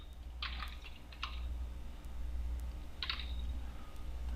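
Typing on a computer keyboard in three short bursts of quick clicks, close but quiet, over a steady low hum.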